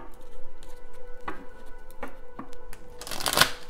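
A deck of oracle cards being shuffled by hand, soft rapid riffling and patting with a denser flurry of card flutter near the end, close and fairly quiet.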